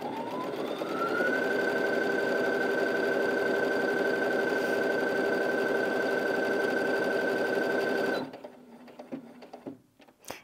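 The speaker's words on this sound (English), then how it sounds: "when you use the locking stitch button, it just sews a few stitches on the spot" A Brother Innov-is A150 sewing machine runs at a fast, steady whirring pace for about eight seconds, sewing locking stitches, then stops abruptly, leaving faint handling clicks and rustles.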